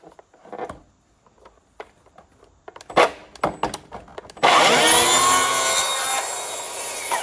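A track saw cuts a wooden door to size: scattered knocks and handling taps, then the saw starts up loud and close and runs steadily through the cut to the end.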